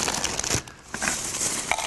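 Dry breakfast cereal pours into a blender jar that already holds water, giving a dense crinkling, rattling rush that sounds close and steady, dips briefly, then resumes with scattered sharp clicks.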